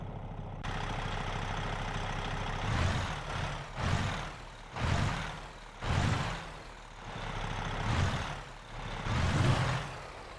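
A truck engine in a trucking video game runs steadily, with a low droning hum that swells and dips in repeated revs, heard alone with no talking.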